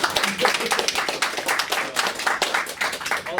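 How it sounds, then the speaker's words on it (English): A crowd breaks into applause, with dense, uneven clapping that stays lively and close throughout. "let's give Winston a round of applause for bringing us"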